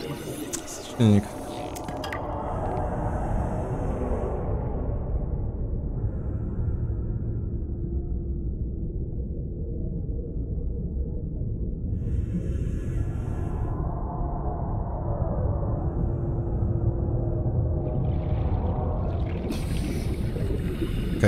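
In the underwater video game Subnautica, a vehicle engine hums as a steady low drone throughout, with watery swishes and occasional brighter whooshes layered on top.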